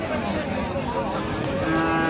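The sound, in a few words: Friesian heifer calves mooing at cattle market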